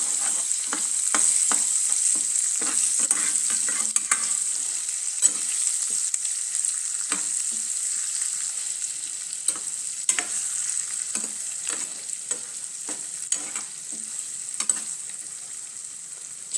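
Stuffed eggplant curry with leftover masala stirred into the gravy in a pan, a soft continuous sizzle under frequent sharp spatula scrapes and taps, close and without speech.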